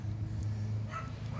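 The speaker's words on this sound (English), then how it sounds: "sorry about the dogs, it's my neighbor." A neighbor's dogs heard briefly at a distance during a motorcycle oil change, with a faint yip or two over a low steady background hum.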